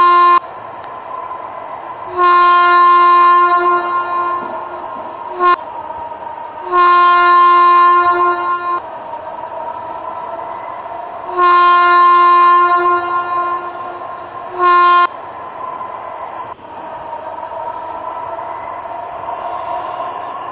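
Indian metro train in a video game, sounding three long sustained horn blasts and one short toot, loud and close, over a continuous rumble of the train running between them.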